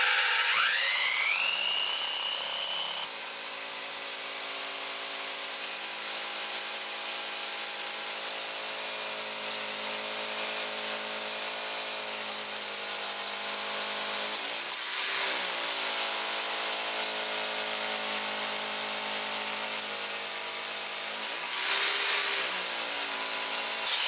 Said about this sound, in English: So now we're just going to drill an hole into the concrete.